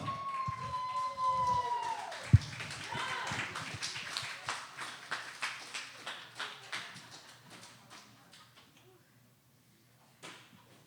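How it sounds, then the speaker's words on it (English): A crowd at a poetry reading applauds in a long run of rhythmic, moderately loud claps that thin out and fade over several seconds, with whoops and a brief sharp knock early on. "Huge round of applause"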